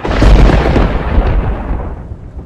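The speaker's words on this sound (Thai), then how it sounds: "โอ้นั่นไงฟ้าร้องแล้ว" Heavy outdoor thunder rolls close and loud, with a deep booming burst at the start that fades into a lower rumble over a couple of seconds.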